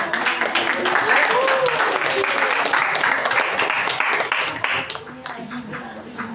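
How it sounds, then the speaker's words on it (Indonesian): A classroom of students applauds a student group, steady clapping filling the whole stretch and thinning slightly toward the end, with some voices mixed in. "kita kasih aplaus dulu kelompok 5"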